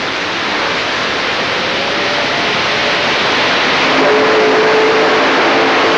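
A pulling tractor powered by four supercharged Chevy 557 engines roars at a tractor pulling event in Rotterdam, a loud, dense, continuous blast of engine noise that builds slightly toward the end.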